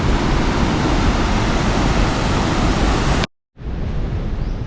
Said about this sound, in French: on vous fait encore un petit peu profiter des cascades.